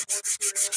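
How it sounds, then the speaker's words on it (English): Sandpaper rubs in quick back-and-forth strokes on a blaster prop build, five or six rhythmic, close, brisk scratches with no speech. "take the corner of your sandpaper and sand it down"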